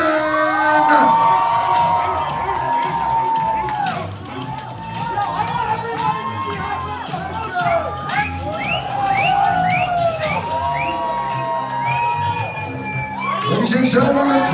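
Wedding reception guests cheering, whooping and shouting for the groomsmen, a loud, lively crowd with high whistle-like yells and shrieks rising and falling across the whole stretch, swelling again at the end.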